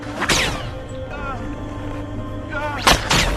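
Two sharp sniper rifle gunshots from a film crack out about two and a half seconds apart, each with a ringing tail, over a low steady background, close and loud.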